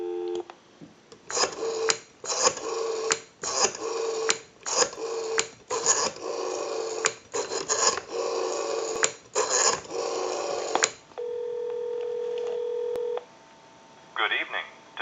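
Rotary dialing on a Northern Electric 302 desk telephone, heard as repeated bursts of rapid pulse clicks in groups separated by short pauses, followed by a steady tone and then a brief ring-like signal, all close and clear.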